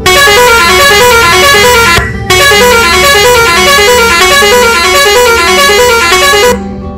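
Chennai town bus horn in Euro Truck Simulator 2, a loud musical multi-tone horn blaring continuously with a short break near two seconds before cutting off toward the end, over a low engine rumble.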